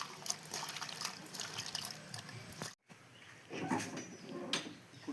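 Dried shrimp are rinsed by hand in water, with steady sloshing and dripping close by over faint outdoor village background noise and one brief pause.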